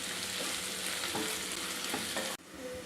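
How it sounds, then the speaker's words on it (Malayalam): Onions frying in a pan for a beef curry, a steady loud sizzle with scraping stirs throughout and a brief break near the end before the sizzling resumes. "ഇപ്പോൾ നമ്മുടെ ഉള്ളിയെല്ലാം നല്ല ബ്രൗൺ കളറായിട്ട് നല്ല ഫ്രൈ ആയി വരുന്നുണ്ട്."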